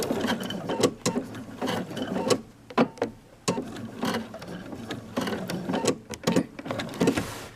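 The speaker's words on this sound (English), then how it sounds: "now I've done my row of understitching" A sewing machine stitches a row of understitching on a dress, running in bursts of rapid mechanical whirring broken by short pauses, close and fairly loud with no voices.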